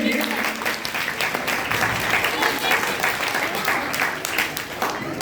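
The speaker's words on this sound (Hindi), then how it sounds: "तो इनके लिए जोरदार ताली से स्वागत कीजिए।" School audience at a Republic Day celebration gives a loud, sustained round of applause to welcome the chief guest, with crowd murmur mixed in.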